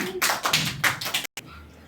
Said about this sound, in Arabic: تصفيق حال الطالب محمود صابوني